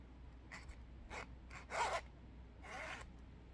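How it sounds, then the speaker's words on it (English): A zipper on a bag's small compartment is pulled in several short, quick strokes, close and quiet, with brief pauses between the rasping bursts. "right there, a little zipper compartment."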